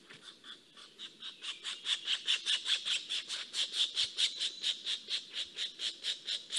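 A hungry woodpecker chick begs to be fed with a steady run of shrill, rasping squawks, repeated rapidly and evenly at close range with no other sound.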